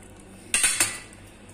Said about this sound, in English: Now these balls I will cut from middle.